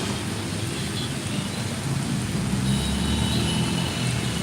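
Heavy rain pouring in Begumpet, Hyderabad, a loud steady roar of rainfall with a low rumble of thunder swelling midway, continuous and close with no voices.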